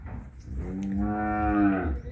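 A cow being loaded into a vehicle lets out one long, drawn-out moo that swells and holds, close and clear, with a little low rumble around it.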